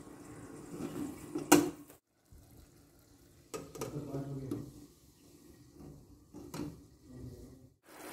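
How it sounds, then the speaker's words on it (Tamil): Mutton curry stirred in a pot, with a spoon scraping and knocking against the metal in short bursts and pauses, close and moderately loud. "எல்லாத்தையுமே அப்படியே நல்லா மிக்ஸ் பண்ணிக்கலாம்"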